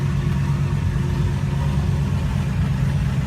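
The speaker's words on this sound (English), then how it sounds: "Idle will be a bit lumpy to start with, just till she warms up" A freshly started car engine idles with a steady, loud, low rumble and a slightly uneven, lumpy pulse while still cold, heard up close with no talking.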